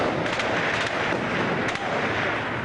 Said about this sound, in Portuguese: Palestinos armados dentro da basílica, trocaram tiros com soldados israelenses.